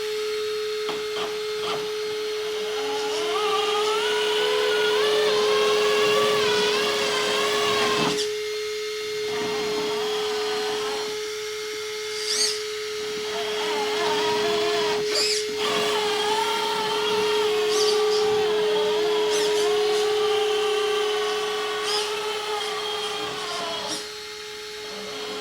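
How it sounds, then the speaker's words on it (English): A cooling fan on the brushless motor of an FMS Toyota FJ40 RC car whines steadily with a constant tone and shifting higher harmonics, close and fairly loud, broken by a few brief dips and clicks. "Except for that fan, it is pretty quiet."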